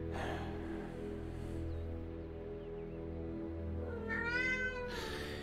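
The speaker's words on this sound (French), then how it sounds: "C'est un chat, quoi." A cat meows in the Alfred Hitchcock Vertigo video game, two clear, close, drawn-out cries at the start and near the end over a low droning game soundtrack.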